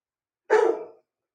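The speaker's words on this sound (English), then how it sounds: "dog is barking" A single dog bark, loud and close, a short lone burst with nothing else around it.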